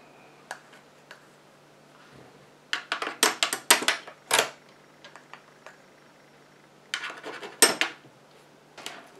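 Mica bronze powder stirred into homemade lip gloss in a small container, heard as scattered bursts of bright clinks and taps with quiet pauses between them, close up and without talk.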